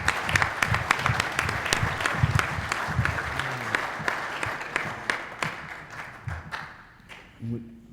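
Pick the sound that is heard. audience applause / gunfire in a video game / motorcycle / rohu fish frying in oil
audience applause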